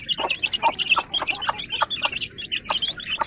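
Chickens on a small farm clucking continuously at close range, a busy rhythm of short repeated clucks with no talking.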